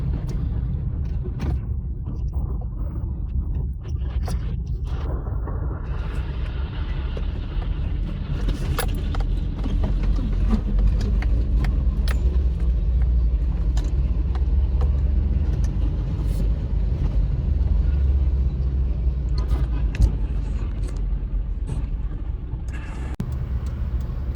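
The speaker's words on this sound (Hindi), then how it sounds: "फाइनली हम मोटरवे M9 से एग्ज़िट ले रहे हैं।" A car drives off the M9 motorway on a long road trip toward Karachi, a steady loud engine and road rumble continuing throughout with no talk.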